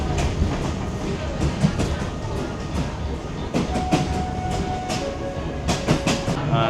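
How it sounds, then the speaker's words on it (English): A passenger train in Uganda rumbles steadily along its rails, heard from on board with rhythmic clickety-clack of wheels over joints and a constant loud rolling roar. "It's nice to ride the train."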